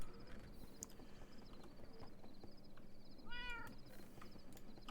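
A kitten gives one short rising meow at mid-distance, standing out against steady background noise and faint clicks, with no talking.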